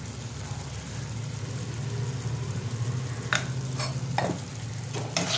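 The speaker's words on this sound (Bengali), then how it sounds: "এবার এটাকে একটু কষিয়ে নেব। ভালো করে কষিয়ে নেব।" Katla fish curry with yogurt and salt sautéing in a pan makes a constant hiss and sizzle under a low hum, with a few spatula scrapes near the end.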